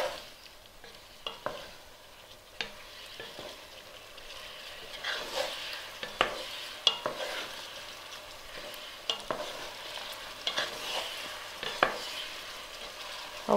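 Chinese pork is stirred in a hot pan, a steady scraping of utensil against metal repeating in loose strokes over a continuous sizzle, close and moderately loud, with no talk.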